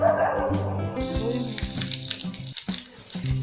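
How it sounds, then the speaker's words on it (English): Ginger garlic paste fries on a low flame in a pan for kadhai chicken, a steady close sizzle with stirring scrapes, partly masked by low tonal background sound. "Stir the ginger garlic paste continuously on low flame for about 1 minute until the raw smell completely disappears and it turns slightly golden."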